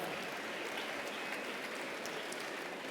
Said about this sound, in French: peut-être vos applaudissements pour soutenir Raif